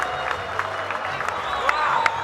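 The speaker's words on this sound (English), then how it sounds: "Everybody clapping inside the DoubleTree." Crowd in a standing-room-only ballroom at the DoubleTree claps and cheers after a boxing bout, steady dense applause with whoops rising near the end under a commentator's voice.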